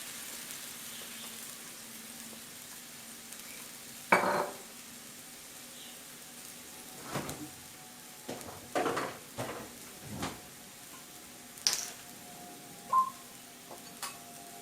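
Metal spatula clanks and scrapes against a pan as goi see mee noodles are stir-fried with soy sauce: sparse, irregular knocks, fairly close, over a faint low background with little audible sizzle.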